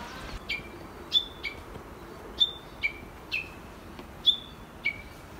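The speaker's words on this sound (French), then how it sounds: "apparemment il y a un oiseau qui siffle comme ça quoi." A bird whistling along a zigzag path among cherry blossoms in Wakayama, Japan, repeating a short clear two-note whistle about ten times in steady rhythm, moderately close against quiet outdoor background.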